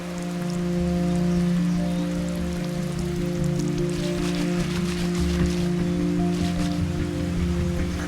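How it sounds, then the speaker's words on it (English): Heavy rain pours down continuously as a dense, loud patter, and a steady low mechanical drone runs underneath it throughout. "Oh, it's getting wet. Wow, it's raining a lot."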